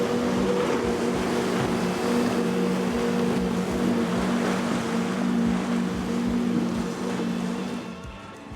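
A 34-foot MTI powerboat powered by Mercury Racing 450R engines during a Key West poker run, a steady loud droning roar with strong engine tones over rushing water, fading slightly at the end.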